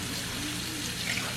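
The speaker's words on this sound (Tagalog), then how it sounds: "Lagyan na natin ng tubig." Water poured into a cooking pot, a continuous rushing, splashing stream at steady loudness for the whole moment.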